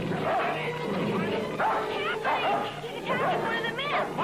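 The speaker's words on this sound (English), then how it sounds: "Barney, Johnny, call your dog." A dog barks and yelps repeatedly in an agitated scuffle, loud and close, with people shouting and talking over it.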